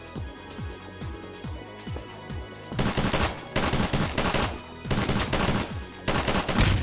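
Rapid bursts of video game gunfire, starting with sparse single shots and then erupting into loud, dense automatic fire with brief pauses.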